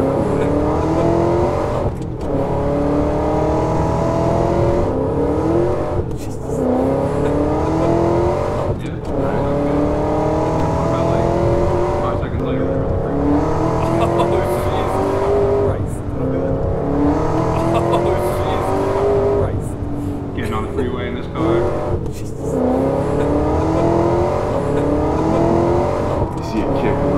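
Ferrari 599 TDF engine at a car show, climbing in pitch through repeated surges and dropping back at each gear change, loud and continuous, with people talking over it.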